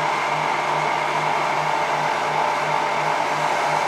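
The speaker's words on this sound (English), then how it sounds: "Oh yeah, I'm getting definitely a lot of airflow right there." 3D printer cooling fan blowing strong airflow, a loud, steady broadband whoosh with a faint low pulsing hum, constant throughout with no talk.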